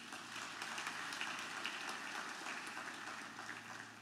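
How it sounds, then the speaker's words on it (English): Audience applause at a graduation ceremony in Guyana, a faint, even patter of clapping from a distant crowd that holds steady for the whole stretch. "Let's give him a round of applause, please."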